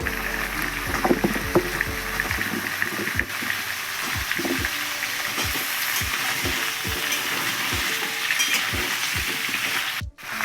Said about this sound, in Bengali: পেঁপে একটু নেড়ে চেড়ে নেওয়ার পরে এখন দিয়ে দিচ্ছি কেটে রাখা আলু